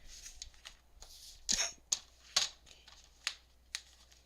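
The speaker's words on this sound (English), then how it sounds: "So let me just cut another one." Scissors snip through a paper strap for a gatefold album, a handful of short, crisp cuts spaced irregularly with faint rustling between them, close and fairly quiet.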